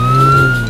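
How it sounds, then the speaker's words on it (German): A cartoon police car's siren sounds as a loud, steady electronic tone, held with little change across the short moment and heard alone without any voices. "Seht, Kinder, das ist ein Polizeiauto."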